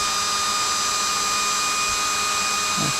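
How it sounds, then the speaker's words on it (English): A power drill bores a shallow pilot hole in a guitar body during the build of a 1964 ES-335 replica in a workshop, a steady high whine running close and loud without a break. "then we can drill our pilot hole for it"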